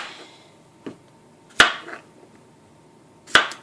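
Knife cutting zucchini into bite-sized pieces on a board: a faint tap followed by two sharp, close chops spaced well apart, with quiet pauses in between.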